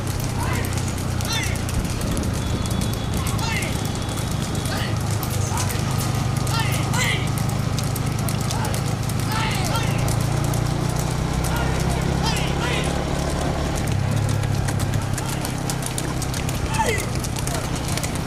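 Bullock carts pulled by single small bulls race along a road at Madhavaram in Chennai, the hooves clattering in a steady, uneven clip-clop close by, with people talking and shouting loudly throughout.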